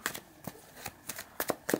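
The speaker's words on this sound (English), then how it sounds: "I'm gonna shuffle my deck" A deck of trading cards for the Wixoss card game being shuffled by hand, a run of quiet crisp riffles and snaps at an uneven rhythm, near and alone.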